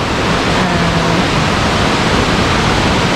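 Khlong Lan waterfall roars in a constant, loud, broadband rush of falling water heard up close, steady throughout with no voices.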